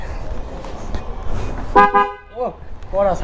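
The horn of an Apache RTR motorcycle, weakened after water got inside it, sounds a few short toots after some talking.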